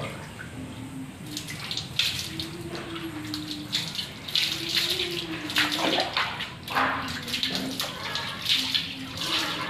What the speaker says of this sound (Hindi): बस सिर्फ सादे पानी से अपने हेयर को वॉश कर लेना है अच्छे से